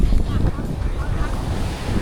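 Ocean waves wash onto a Thai beach during a beach run, a continuous rushing surf mixed with heavy wind buffeting the microphone, loud and close, with no clear voices.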